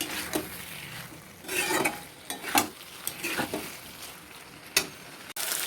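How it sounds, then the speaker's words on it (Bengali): Vegetarian paneer curry with spices being stir-fried in a pan, with irregular scrapes and clinks of a spatula over a low, steady sizzle, close and without speech. "আমি একটু কষিয়ে নেবো মশলার সাথেই"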